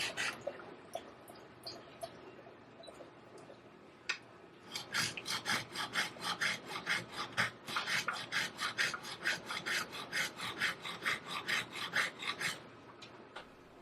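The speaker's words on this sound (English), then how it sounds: "I rotate the gouge back and forth over the diamond surface to erode the steel uniformly" A steel woodturning gouge rasps back and forth over a diamond sharpening stone, first in a few scattered scrapes, then in a steady run of rhythmic close strokes, each a bright gritty rub.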